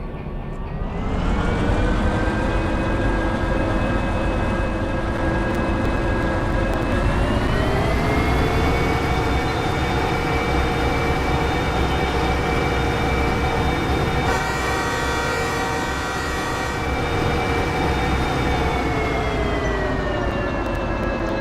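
A train in the Derail Valley simulation rolls along steadily with a loud, continuous engine and wheel drone, sustained horn-like tones rising slightly in pitch midway, and a brief rattling burst near the end.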